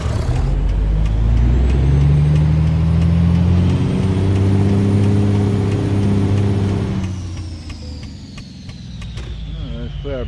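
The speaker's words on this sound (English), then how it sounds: "Put our brakes on for a second." A truck in American Truck Simulator brakes, its loud low engine drone winding down before the rumble drops and a brief air-brake hiss follows, with a voice talking over it.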